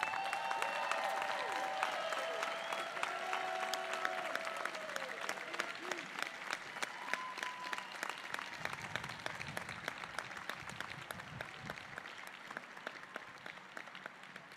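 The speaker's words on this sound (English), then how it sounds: "Can we just give the class of 2021 a round of applause again?" A large crowd claps for the graduating class of 2021 at an outdoor university commencement, a dense steady applause that carries on for many seconds and slowly thins, with voices and cheers mixed in.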